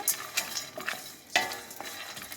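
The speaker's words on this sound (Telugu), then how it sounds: "మంచి వాసన పోయే వరకు వేయించుకోవాలి కొంచెం" Masala being fried in a pan for a ridge gourd (beerakaya) curry, a close, steady sizzle broken by a few louder scrapes and stirs of a spoon, with no voices.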